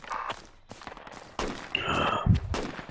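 Rifle gunfire in the tactical military game Project Reality, several sharp shots and short bursts at moderate distance amid background battle noise.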